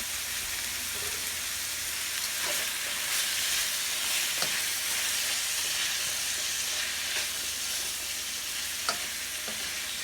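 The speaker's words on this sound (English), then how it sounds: "we're really just trying to do a light saute in the coconut oil" Kale, broccoli and other vegetables sizzle lightly in coconut oil in a pan, a steady close frying hiss broken by a few soft clicks of stirring.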